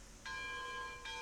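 A locomotive bell in the train game RailRoads Online rings twice, a bright sustained metallic tone struck, fading slightly, then struck again near the end.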